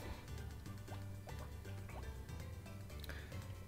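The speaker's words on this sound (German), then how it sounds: "Auf jeden Fall sollen wir noch ein bisschen Blumen gießen." Flowers watered with a golden watering can in the Harvest Moon video game, a run of soft bubbling drip sounds repeating under steady game background noise.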